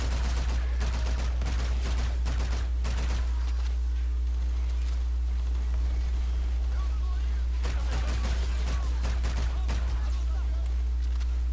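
Bursts of rapid automatic gunfire in the Call of Duty: Infinite Warfare campaign, clustered volleys separated by quieter stretches over a constant low hum, with someone talking intermittently.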